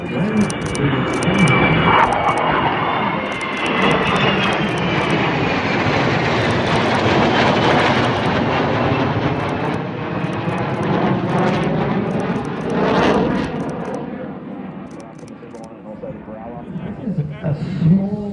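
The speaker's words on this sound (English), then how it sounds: "a small cargo aircraft, the Spartan, made in Italy" A Spartan small cargo aircraft made in Italy flies past at an air show, a loud, sustained roar of turboprop engines rising and fading steadily while a voice talks over it throughout.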